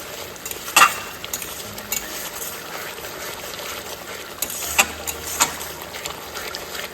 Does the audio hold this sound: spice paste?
yes